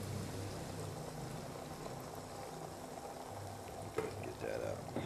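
Beaten eggs poured into a hot frying pan with olives give a steady close sizzle and bubbling hiss across the whole stretch, with a few brief clinks near the end.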